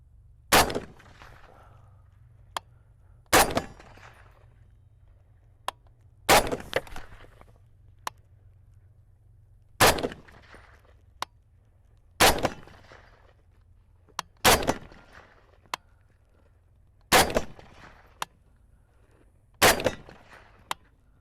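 Springfield M1A rifle firing at a steady pace, eight loud, sharp reports spaced a couple of seconds apart, each with a brief ringing tail and faint clinks in between over a low hum.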